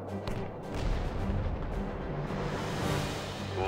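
Heavy Soviet cannon fire in World War Armies 3 rumbles continuously, a dense roar of booming shots blending into a sustained low barrage with no pauses.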